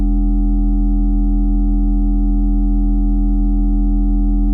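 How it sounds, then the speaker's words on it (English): Steady sine-wave tone from a Radical Frequencies dual precision VCO oscillator, patched into a Cwejman SM-1 module, holding a constant pitch with a faint periodic wobble throughout, loud and alone with no voices. "So I've got a sine wave coming in from Radical Frequencies dual precision VCO."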